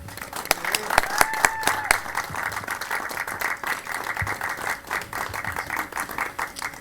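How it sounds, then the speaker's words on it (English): Wedding guests clap for the newly married couple, a dense burst of applause with a few whoops and cheering voices at the start, then a steady sustained clatter of hands filling the room. "Let's give them a round of applause."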